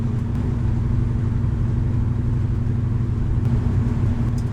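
A 1957 Chevy Bel Air cruising smoothly on the road, its steady low engine rumble and road noise holding an even, unbroken level throughout.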